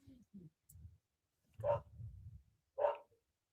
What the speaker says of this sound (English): The dog's going off.